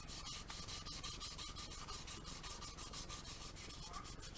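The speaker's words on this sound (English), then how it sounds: "passes with the sandpaper to go across it to kind of feather it all in" Sandpaper rubs back and forth across the seam of a plastic model kit of a Star Trek Klingon D7 battle cruiser, a quick, steady rhythm of dry rasping strokes, close and faint, with no voice.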